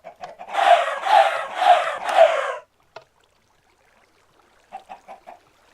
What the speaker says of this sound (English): you can hear some chickens